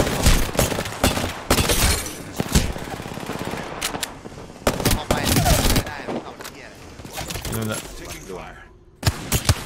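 Gunshots in a shooter video game, loud irregular bursts of rapid automatic fire with short gaps and a few sharp single cracks, close and punchy, with someone talking over parts of the shooting.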